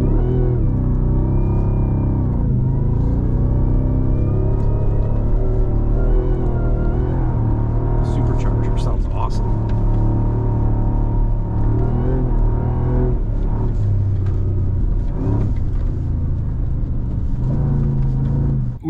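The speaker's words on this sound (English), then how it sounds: "We're just doing a bunch of drag racing" A 2024 Ford F-150 Raptor R drag racing on sand dunes, heard from inside the cab as a loud, continuous engine roar with rising revs, steady rumble and some brief rattles, close and dominant throughout with no talk.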